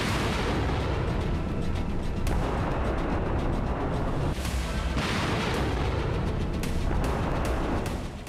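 Explosions from a Russian attack on Kyiv, Ukraine: a continuous, loud barrage of heavy booms and sharp cracks that run together into a dense roar for the whole stretch, with no voices.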